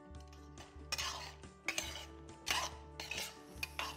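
A spoon stirs cumin into thick dal in a metal pot, scraping and clinking in repeated strokes close by, with a low steady hum under it.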